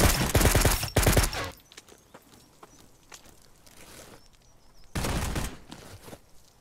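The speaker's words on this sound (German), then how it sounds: "Ich habe nur die Schüsse gehört." Loud, close bursts of rapid gunfire from the video game Zero Sievert open the stretch, then fainter scattered shots and ambient game noise follow before another heavy volley near the end; no talking.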